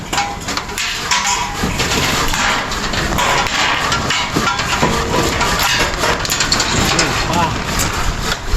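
A hand saw rasps through wood in steady back-and-forth strokes during house construction, the scraping continuous and fairly close, with people talking over it.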